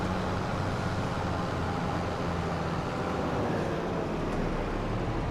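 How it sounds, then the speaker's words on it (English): Steady, even engine rumble of a tractor being driven in Farming Simulator 25 on PS5, a continuous broadband drone with no breaks and no talk. "Tractor doesn't seem too big for this map."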